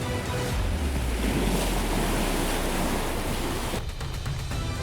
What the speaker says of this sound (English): The surge smashes into the ice, sweeping the unlucky prey into the freezing water.